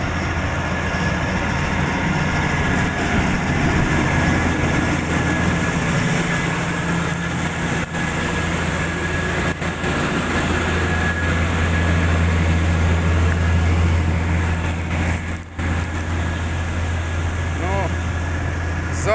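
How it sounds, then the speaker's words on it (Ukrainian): A combine harvester engine on a hot harvest field idles unevenly with a steady low drone and is then revved somewhat, loud and continuous throughout while someone speaks over it. "Він на холостих щось так нерівно робить, дав трохи газу ліпше."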